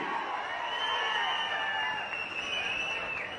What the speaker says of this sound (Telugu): గట్టిగా చప్పట్లు కూడా చెప్పండి, అభినందించండి